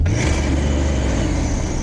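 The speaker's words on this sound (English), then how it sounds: "whew, that is the sound of a V8 engine." A V8 engine swapped into a 1985 Pontiac Fiero in place of the four-cylinder, revving loud and close with a deep, steady roar that holds throughout.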